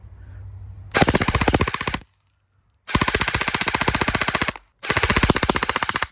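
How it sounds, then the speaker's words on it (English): Airsoft gun firing BBs on full auto in three long rapid bursts, each a dense, even rattle of shots close to the listener, separated by brief silent pauses. "So now I'm gonna kick it into full auto and just see how fast really we can shoot and how accurate."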